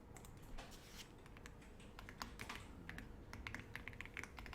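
Computer keyboard keys pressed in a classroom lesson on word-processing software, a steady patter of quick, crisp clicks at close range with irregular rhythm and no talking.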